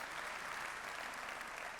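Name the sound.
audience applause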